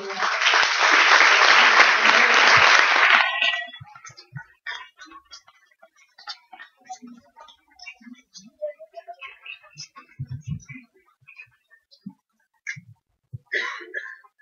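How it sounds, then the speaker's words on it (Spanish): A burst of loud applause from a conference audience for a few seconds, then it cuts off, leaving scattered faint taps and small noises. "le damos un caluroso aplauso para recibirla"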